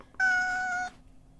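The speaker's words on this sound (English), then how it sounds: "That's just a cat meowing." A cat gives a single clear, tonal meow lasting under a second, heard alone against a quiet background.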